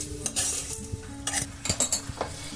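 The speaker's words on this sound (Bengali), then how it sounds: "আর এখানে যেগুলো রেডি করা ছিল সেগুলোকে আমি এখানে মিশিয়ে দিচ্ছি।" Cooked fried rice being tossed and mixed with prepared ingredients in a pan, making irregular scraping and clinking utensil strokes over a faint sizzle, close and alone with no voices.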